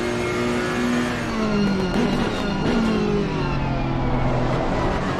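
A Ferrari race car in an Indy sprint race screams at high revs, its engine note rising and falling through gear changes, loud and close, with another car audible nearby.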